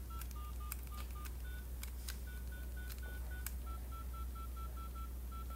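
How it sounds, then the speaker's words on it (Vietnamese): Keypad tones from a Nokia 3200 mobile phone, a series of short electronic beeps as the keys are pressed one after another in an irregular rhythm, close and clear over a steady low hum. "Điện thoại chích chích chích chích chích."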